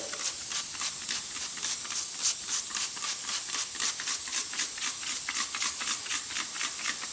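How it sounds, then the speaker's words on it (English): Continuous hissing spray with rapid pulsing bursts of soapy water from a spray bottle, steady and fairly close, no voices. "just mix up a little bit of soapy water and just spray"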